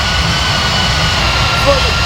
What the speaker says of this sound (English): Hopefully you guys can still hear me over the engines.